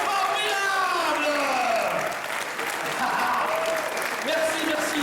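An audience at a municipal brass band's 175th anniversary show applauds loudly and steadily for several seconds, with cheering mixed in and a voice talking over the crowd.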